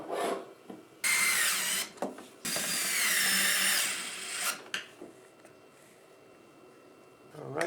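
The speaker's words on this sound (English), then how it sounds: "we just drilled a hole for the XT90 connector" A drill bores a hole for an XT90 connector in a DIY solar generator build, likely through a wood panel. Two loud bursts of grinding run about a second and then about two seconds, followed by quieter handling noises.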